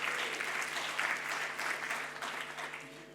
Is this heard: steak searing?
no